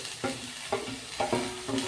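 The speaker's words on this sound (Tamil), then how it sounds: "குட்டி குட்டியாக நறுக்கி வச்சுருக்க வெங்காயத்தை சேர்த்துக்கோங்க" Chopped small onions sizzling in hot oil in a pan for an egg gravy, with a steady fry hiss and several stirring scrapes spaced through it.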